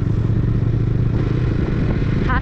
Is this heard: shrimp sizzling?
no